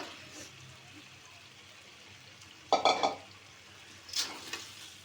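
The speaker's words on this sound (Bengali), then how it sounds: "এখন আমি বাজা আলুটা দিয়ে দিব" New potatoes tipped into a pan of cooked-down spice masala for an egg curry, giving a couple of sharp sizzling bursts over a faint steady frying hiss, with no talking.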